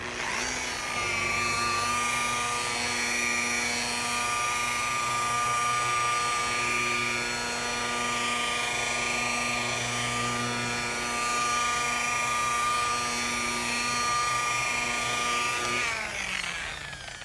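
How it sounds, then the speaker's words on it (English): A rotary buffer polishing out sanding marks at 1500 RPM whirs at a steady high-pitched whine for a long stretch, motor tone holding constant before spinning down at the end; no talking. "It's a nice rotary buffer"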